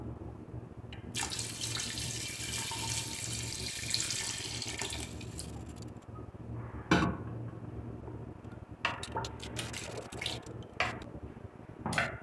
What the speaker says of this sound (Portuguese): eu vou completar com água